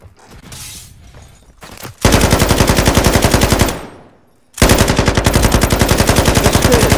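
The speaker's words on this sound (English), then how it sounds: "I'm gonna run this fucking LMG to see what it's like." LMG light machine gun in the Call of Duty Modern Warfare 2 beta firing two long, loud, rapid sustained bursts separated by a short pause, with faint game noise beforehand.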